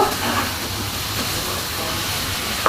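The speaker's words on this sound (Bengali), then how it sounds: "চিকেনটা একবারে তেলের সঙ্গে তেল মশলায় ভালোভাবে ভাজাও হয়ে গেল" Chicken fries in hot oil with spices, giving a steady, dense hiss that holds evenly throughout, with a brief sharp click near the end.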